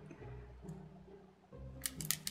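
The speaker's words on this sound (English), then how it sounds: "I'm going to peel off my decal" A vinyl decal is peeled off its backing sheet for a spooky Dollar Tree cup craft, giving a short run of crisp, crackly bursts near the end over a low steady hum.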